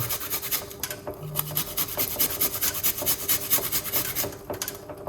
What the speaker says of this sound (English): We're going to grate a little piece of ginger.